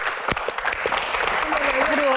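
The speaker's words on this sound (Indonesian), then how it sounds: "tepuk tangan untuk Dokter Boy." A studio audience applauds at a Q&A talk show, a continuous spread of clapping that builds over two seconds while a voice speaks over it.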